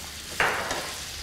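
Garlic and liver dropped into a hot pan for liver tacos, bursting into a sudden loud sizzle that then settles to a steady frying hiss, with no voices.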